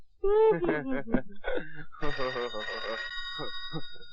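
A telephone bell rings in bursts while a person talks over it, the ringing close and insistent beneath the speech.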